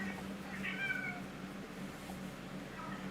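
A pet cat meows a couple of times at moderate distance, short rising calls rising above a steady low background hum, with no talking.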